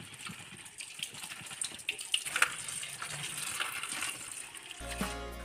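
Tap water running over coriander leaves being washed, a steady splashing gush with brief louder splashes, close by, ending with a short clunk, no speech.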